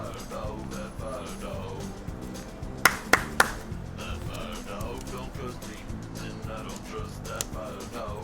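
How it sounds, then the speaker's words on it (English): A song playing with a quick triple clap in the middle, three sharp hand claps over steady music. "Clapping part's coming up."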